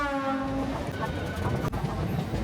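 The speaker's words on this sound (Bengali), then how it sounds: "ট্রেনে উঠে পড়লাম, ট্রেন ছেড়ে দিল।" A Bardhaman local train rumbles steadily just after pulling out of Chandannagar station, with a brief horn-like tone at the start over the continuous rolling noise of the carriage.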